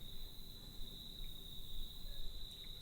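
Crickets in a backyard at night keep up a steady, high, continuous chirping trill over faint background hiss, with no voices.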